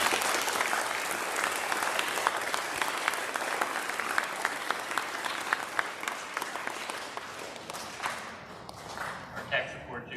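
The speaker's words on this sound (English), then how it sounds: "We have a round of applause for Ms. Negrini." An audience at a school Veterans Day program applauds loudly in a hall, the dense clapping thinning and tapering off into scattered claps toward the end, with faint voices underneath.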